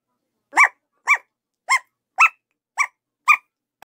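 A dog barks six times in a steady, evenly spaced rhythm, each bark short and sharp, close by with silence between.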